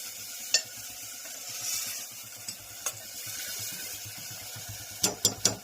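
Mixed vegetables for undhiyu, including brinjal and cluster beans, sizzle softly in a tempering pan, a faint steady hiss broken by a few sharp clinks of a spoon against the pot.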